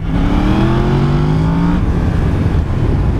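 A Yamaha MT-10 SP sport motorcycle engine revs loudly up close, its pitch climbing in a sustained rising drone before settling into a rough, steady roar.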